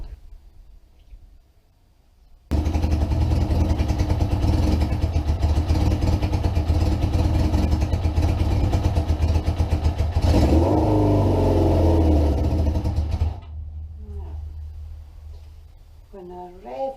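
A Suzuki GS550 rat bike motorcycle engine is revved hard and held high for about eleven seconds, then drops back to a rough idle. Voices talk faintly near the end.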